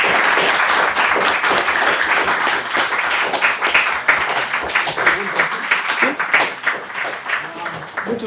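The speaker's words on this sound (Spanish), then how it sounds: "Un aplauso" A crowd applauds continuously, dense steady clapping filling the room, with a voice speaking briefly over it.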